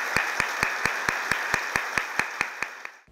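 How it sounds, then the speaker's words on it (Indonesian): A studio audience on a talk show claps in a steady, even rhythm, with the crowd noise loud and continuous for about three seconds before it fades. "kita berikan aplaus ya"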